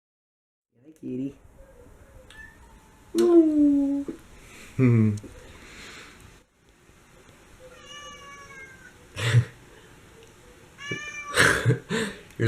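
A house cat meows repeatedly indoors beside a running Westinghouse ceiling fan, with clear, close, drawn-out calls spaced across the stretch and a person speaking briefly in between.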